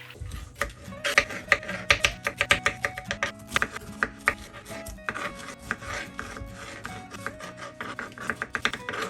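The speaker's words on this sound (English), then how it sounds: "wash and cut some fresh fruits" Fresh fruit is cut with a knife on a board in quick, uneven chopping taps and rubbing scrapes, close and fairly loud, with no talking.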